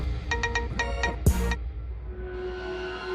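A phone rings with an incoming call, bright repeating ringtone bursts and a short sweep, with some background sound in between and no talk.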